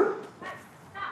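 Dogs bark at a house as door-to-door volunteers approach in North Carolina, three short close barks, the first loudest, with no talk over them.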